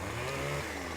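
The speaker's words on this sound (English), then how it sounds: "left-hand button starts the chainsaw" A chainsaw in Farming Simulator forestry work starts up and runs with a steady, buzzing engine drone, close and fairly loud, with no talk over it.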